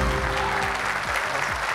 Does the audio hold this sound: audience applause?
yes